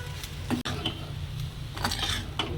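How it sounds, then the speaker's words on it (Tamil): Chopped coriander is stirred into a chicken and pea samosa filling in a cooking pan, with a spoon scraping and clinking against the metal in a few irregular strokes over a low background hum. "கொத்தமல்லி நல்லா சின்னதாக பொடியாக அரிஞ்சு வச்சதை எடுத்து போட்டுட்டு நல்லா இலக்கி விட்டுக்கலாம்"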